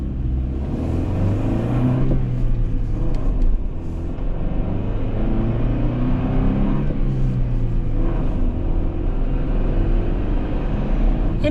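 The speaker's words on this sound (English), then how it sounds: "So we gotta back her on up and do a K-turn to get this bad boy around." A 2025 Toyota Tacoma TRD Sport manual pickup backs up during a K-turn, its engine giving a steady close low rumble that rises and falls slightly with throttle, with no voices over it.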